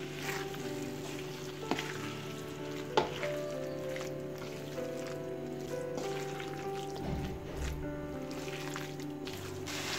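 Marinated soya chunks sizzle and fry in a pan for a curry, with a constant crackling hiss, occasional scraping stirs and clinks of a utensil against the pan, close and steady.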